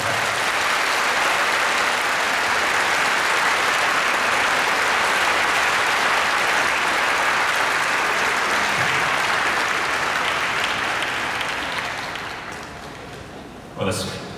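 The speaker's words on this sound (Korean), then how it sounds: "크게 박수 한번 주시기 바랍니다." An audience at a Korean world mission conference bursts into loud, sustained applause that fills the hall for about twelve seconds before tapering off, ending with a brief bump.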